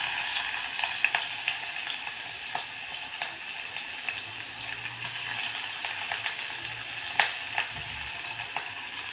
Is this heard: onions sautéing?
yes